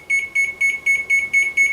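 A kitchen timer beeping while cooking, seven evenly spaced bright electronic beeps in a quick steady rhythm, loud and close with nothing else heard.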